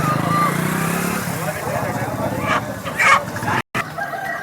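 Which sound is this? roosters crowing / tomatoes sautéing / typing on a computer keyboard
roosters crowing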